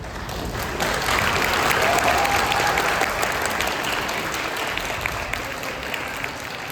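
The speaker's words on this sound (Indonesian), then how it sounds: "Jangan tepuk tangan dulu." Sustained applause from a school audience fills the space steadily and loudly from start to finish, dense clapping with faint crowd murmur and no clear speech.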